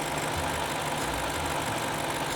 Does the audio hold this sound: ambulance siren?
no